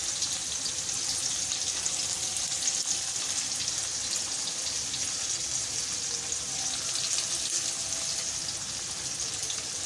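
Onions frying in oil in a pan just after potatoes were fried, a steady loud hiss and crackle of sizzling that continues evenly throughout with no talking.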